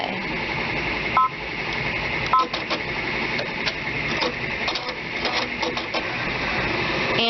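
An Enterprise 10-needle embroidery machine runs a lock-and-cut cycle, giving a steady close mechanical whir with quick rhythmic ticks and a couple of short electronic beeps, and no talking.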